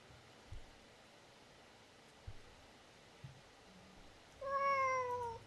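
In the video game Ib, a cat gives one clear meow at the end after a quiet stretch with a few faint soft bumps.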